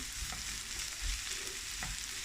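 Quiet sizzling in a frying pan with a few soft scraping stirs of a utensil moving bubble and squeak around.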